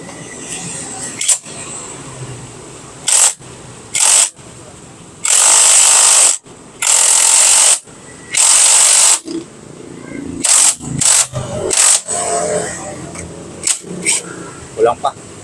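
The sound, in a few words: impact wrench with puller pressing in engine bushing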